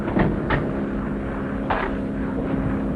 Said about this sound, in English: Nagel ambulance plane coming in on the beam.